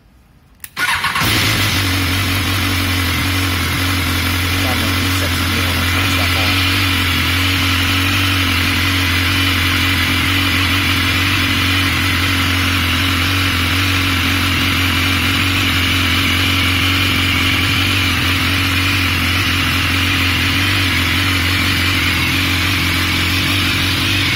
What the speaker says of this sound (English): And then when I turn the bike on